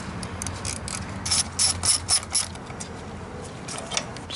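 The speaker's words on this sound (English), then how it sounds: "Now remove this brake line support bracket with a 10mm." A ratchet clicks in quick bursts while backing out a 10mm bolt from a brake line support bracket on a 2014-or-later Chevy Silverado or GMC Sierra, close and fairly loud with no talking.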